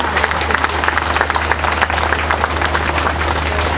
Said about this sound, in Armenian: ես ուզում եմ, որ մենք բոլորս ծափահարենք այն բոլոր մարդկանց, ովքեր իրենց ազատությունն են դրել այս պայքարին